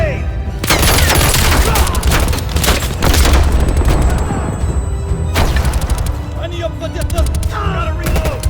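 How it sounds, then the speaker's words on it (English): Call of Duty Black Ops Cold War combat on realism difficulty: a grenade blast booms amid dense gunfire and crashing impacts, loud and continuous throughout. "Incoming grenade!"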